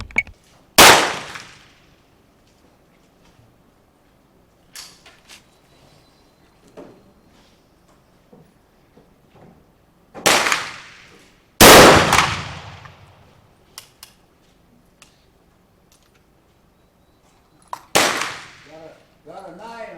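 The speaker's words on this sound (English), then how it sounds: "I'm going to shoot a few at 100 yards" Remington Rolling Block rifle firing .43 Spanish reloads: four sharp, loud gunshots spaced several seconds apart, each with a short echoing decay, with faint handling noises and quiet movement between shots.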